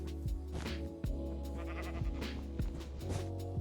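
Sheep bleating in the Minecraft video game: several loud, wavering bleats in quick succession over a steady low hum, close and clear, with no talk.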